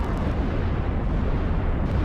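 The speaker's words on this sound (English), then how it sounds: "Bombing run did a pretty good damage." Dense, rumbling bombing-run explosions in the strategy game Ashes of the Singularity, a continuous loud roar of overlapping blasts with no gaps or speech.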